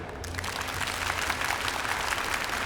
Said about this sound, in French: Est-ce que vous pouvez faire une petite applaudisse, s'il vous plaît?